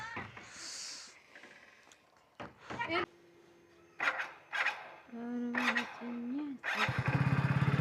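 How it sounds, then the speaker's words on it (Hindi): Voices talk over quiet background until a motorcycle engine catches near the end and runs with a rapid, pulsing putter close by. "बाइक से ही तो जाना है।"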